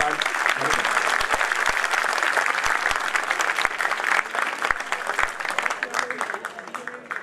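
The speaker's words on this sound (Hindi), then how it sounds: "ये तालियां कमजोर हैं" Audience applause at a Hindi poetry gathering (kavi sammelan) for a poet, dense continuous clapping from a large hall crowd that thins and fades toward the end, with a voice briefly heard over it.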